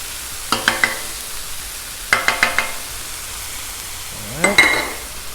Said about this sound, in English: Let's get this garlic on.